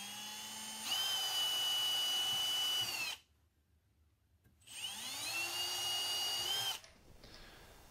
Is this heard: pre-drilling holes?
yes